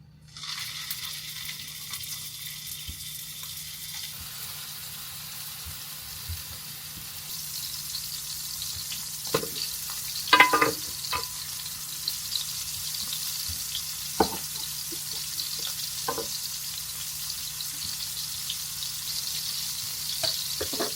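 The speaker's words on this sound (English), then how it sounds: "Let's get these seared so we can get them in the oven. Fry them up." Meatballs sear and fry in a hot pan with a steady broadband sizzle, broken by a few sharp pops and spatters as they are turned; no one speaks.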